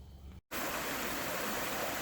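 Spring-fed stream water, still cold from the springs, runs downhill as a steady broadband rush. It breaks off in a brief silent gap, then returns louder and continuous, with no voices.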